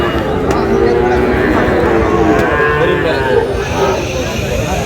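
Sahiwal bull calves and other cattle at the Ambari weekly cattle market in Dinajpur give long, close, drawn-out moos over a constant bustle of crowd noise.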